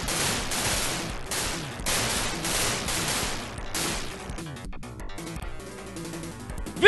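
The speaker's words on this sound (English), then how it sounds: "They all come together to make the Dragon Mega Ultra Zord. And they fire on Rita's castle." Zords merged into the Dragon Mega Ultra Zord open fire on Rita's castle in the Mighty Morphin Power Rangers game, a dense burst of rapid retro gunfire pulses that gives way to crackling, scattered blasts and a sharp final hit.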